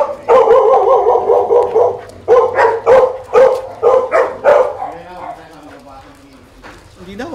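A playful dog barks in a rapid run of loud, close yips and woofs, then breaks off into a quieter whine and a few softer sounds near the end.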